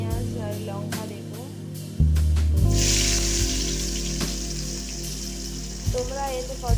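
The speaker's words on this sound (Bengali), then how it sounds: "তাই এতে প্রথমে আমি পেঁয়াজ আর লঙ্কা দেব" Onions and chillies hit reused hot oil left from frying potatoes, bursting into a loud, bright sizzle that starts abruptly partway through and holds steady, with a musical backing underneath.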